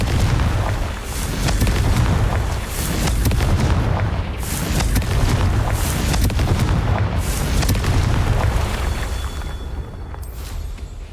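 In Hogwarts Legacy, repeated Confringo fire spells detonate as a string of loud, booming explosions with crackling bursts layered over continuous rumbling, lasting around eleven seconds.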